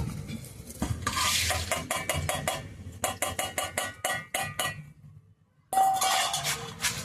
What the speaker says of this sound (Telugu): ఇప్పుడు అండి ఇందులో అయితే వేసి నూరుతున్నాను